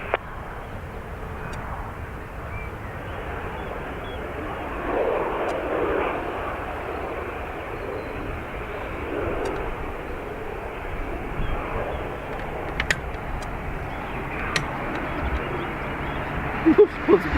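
A Ryanair jet takes off from runway 28 right at Dublin Airport, its engine roar a broad, steady wash swelling slightly, heard from a distance with a few faint clicks and light background noise.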